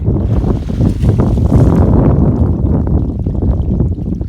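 Strong wind roars steadily at the waterside by a rocky shore, buffeting the microphone in a loud, continuous rush with gusting swells and no speech.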